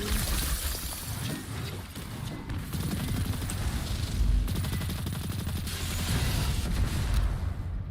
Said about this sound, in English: This SMG in Crucible is actually pretty good.